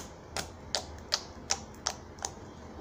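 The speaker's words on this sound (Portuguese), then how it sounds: "Faz bastante clique também, ó." Salmon-coloured homemade slime stretched by hand at a table gives off a row of six crisp, evenly spaced clicks, quiet but distinct against faint background hiss.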